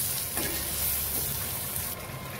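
Vegetables being stirred in hot oil in a pan, giving a brief, steady, close sizzle with faint scraping.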